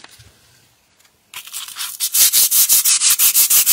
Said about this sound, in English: you can see it sands really easy, turns white, we call it, it dusts up